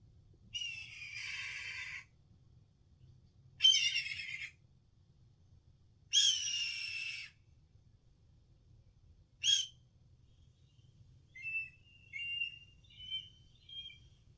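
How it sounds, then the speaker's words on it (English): Recorded hawk calls sound as a series of harsh, high screeches, about four separate cries spaced a few seconds apart, followed by softer thin whistling notes, all fairly faint over quiet low hum. "Let's listen to what a hawk sounds like"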